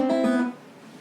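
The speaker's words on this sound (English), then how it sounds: "we've got this Muleskinner lick" Guitar lick, the Muleskinner lick, with a short burst of bright plucked notes over about half a second that then rings out and fades, played solo and up close.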